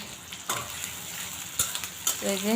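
Chopped onion sizzling in a pan, a steady frying hiss broken by a few sharp scrapes and taps of a stirring utensil, with a brief voice near the end.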